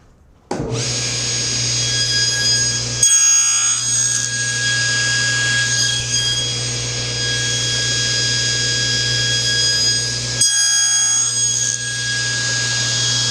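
A saw cuts a wooden board for dovetails on a sled jig, a loud steady whining rasp that stops briefly twice before it resumes.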